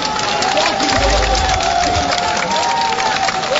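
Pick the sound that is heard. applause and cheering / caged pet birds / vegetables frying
applause and cheering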